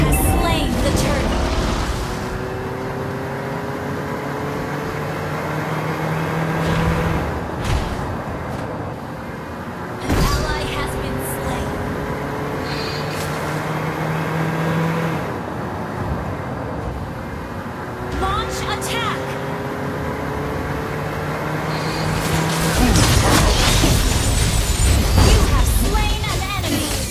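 Revving car engine in a vehicular combat video game, rising in pitch in repeated acceleration sweeps over game music and effects, with someone talking over it.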